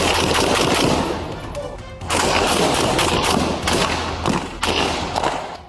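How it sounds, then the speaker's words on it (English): Gunshots ring out during a police standoff in a parking garage, dense overlapping bursts of loud, echoing fire that pause briefly near the two-second mark and then resume in sharp volleys. "Officers returned fire and killed him."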